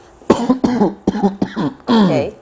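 A person coughs and clears their throat several times in close succession, loud and close, ending in a longer rasping throat clear.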